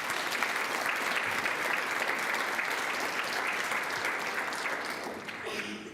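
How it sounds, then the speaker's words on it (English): Audience applause at a rising sophomore school ceremony, honoring parents, grandparents and guardians: dense, steady clapping from a large crowd held for about five seconds, then thinning and fading at the very end. "Can we give them a round of applause?"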